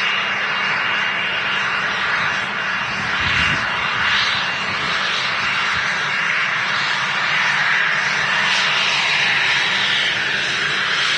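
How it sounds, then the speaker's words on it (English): An Emirates airliner departs Manchester Airport, its jet engines making a loud continuous roar that swells and holds across the whole span, heard from a distance outdoors with no talking. "watching this Emirates depart"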